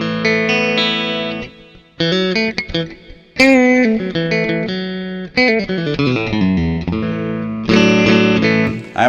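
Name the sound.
electric guitar, neck pickup outer coil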